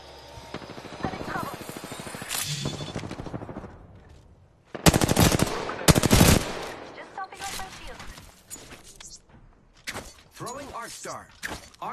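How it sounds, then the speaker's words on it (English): Rapid automatic gunfire in the video game Apex Legends, bursts of weapon fire with mechanical clicks and reload sounds, loud bursts mid-clip then scattered shots, with game voice lines at times. "I am taking fire, friends."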